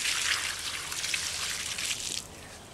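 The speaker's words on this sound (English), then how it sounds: "Now he's pouring water on the poison on the fire ants." Water is poured onto the ground around a fire ant mound treated with poison, making a steady, close splashing and trickling that runs without a break for a few seconds and then eases off.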